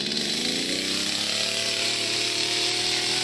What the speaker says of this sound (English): He started the chainsaw correct.